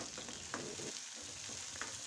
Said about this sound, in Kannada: ಈಗ ಇದು ಚೆನ್ನಾಗಿ ಫ್ರೈ ಆಗಲಿ